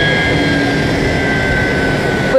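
Jet engine of an airliner carrying the first COVID-19 vaccine shipment at KLIA, Malaysia, a loud steady roar with a sustained high whine running unbroken throughout, no voices.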